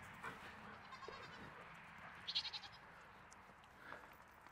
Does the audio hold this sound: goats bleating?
yes